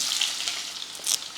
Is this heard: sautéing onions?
yes